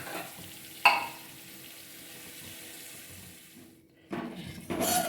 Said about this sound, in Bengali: এবারে জল দিয়ে দেবো মাছে।